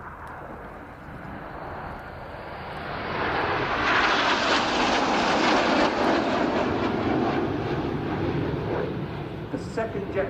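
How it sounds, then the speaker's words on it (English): Royal Air Force Red Arrows Hawk jets fly in formation during an airshow display, their engine roar swelling to a loud peak and then easing slightly as they pass, with a commentator talking over it. "Those 4 aircraft on the wings now drop back to be directly abeam Red 7 at the rear of the formation."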